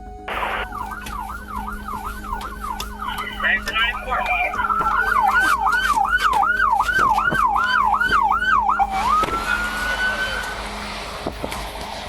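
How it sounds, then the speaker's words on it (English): A wailing police siren rises and falls rapidly over highway traffic noise during a pursuit, loud and close, with radio chatter and voices underneath. "Police following suit, sirens blaring."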